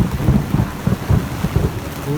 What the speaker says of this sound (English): You can see the lightning maybe as I'm filming the roof of the tent, with the lightning and thunder as incredible.